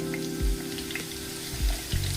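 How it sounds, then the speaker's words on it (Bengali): Potatoes fry in oil with a soft, steady sizzle, accompanied by a few low knocks and scrapes from the pan, all at a modest level with no talking. "আলুটা বেশ ভালো ভাজা ভাজা হয়ে গেছে"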